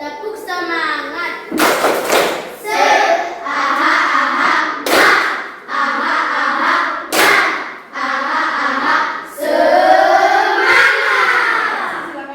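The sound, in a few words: class doing the "tepuk semangat" spirit clapping routine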